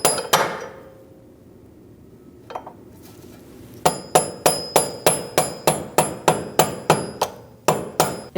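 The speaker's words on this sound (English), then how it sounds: "Now we're going to use a punch and push this bolt out." A hammer strikes a metal punch to drive out a rear control arm bolt on a 2008–2014 Mercedes-Benz C300, first a few scattered knocks, then a fast, regular series of about a dozen sharp, ringing metallic blows up close.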